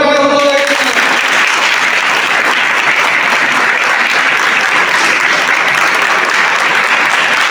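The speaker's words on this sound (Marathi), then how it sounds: "जोरदार टाळ्या वाजवा" Audience at a Hanuman Jayanti celebration gives loud, sustained applause for a third-place winner, a dense wash of clapping lasting several seconds after a brief voice at the start.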